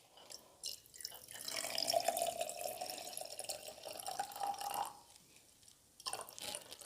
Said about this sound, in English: We'll just fill this jar all the way up.